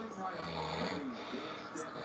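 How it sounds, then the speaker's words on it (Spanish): Loud snoring of a semi-seated sleep apnea patient played from a recording, rasping breaths with a low rattling drone, heard under a person talking. "Está roncando. Es un ronquido fuerte."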